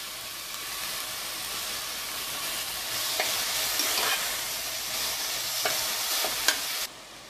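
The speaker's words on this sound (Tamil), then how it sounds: "அதையும் சேர்த்து நல்லா வதக்கிடுங்க. இதில் கொஞ்சமாக உப்பு சேர்த்து வதக்கிக்கலாம்." Vegetables with salt sauté in a hot pan, giving a steady close sizzle and hiss with occasional light scrapes of a spatula stirring, continuous until it drops off abruptly at the end.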